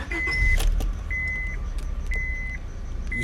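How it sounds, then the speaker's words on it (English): A Honda Civic engine starts with a low rumble and settles into an idle, while a dashboard chime beeps repeatedly at a steady pace, after an evap leak repair. "turn the car on"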